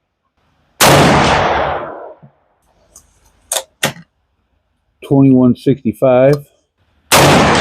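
Three sharp, loud gunshots from a 400 Legend rifle firing a Winchester factory load at close range, each followed by a quick decay, with someone speaking in the gaps between shots.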